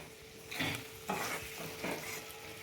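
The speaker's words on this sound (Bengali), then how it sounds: "একটু দু একটা আম একটু ঘেঁটে দিচ্ছি" Raw mango pieces in a spiced pickle mixture being stirred and tossed in a pan, three soft wet scraping sweeps over a faint sizzle-like hiss, close and quiet, with no talk.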